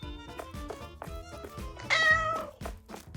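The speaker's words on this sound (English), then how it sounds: "Gotta pet the cat" A cat meows as it gets petted in the video game Supermarket Together, a short mewing cry rising over steady in-game music and clunking shop sounds.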